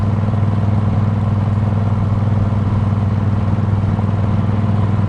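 A motorcycle riding over a rough stretch of Route 66, its loud, constant engine drone and rumble mixed with rattling and wind buffeting throughout.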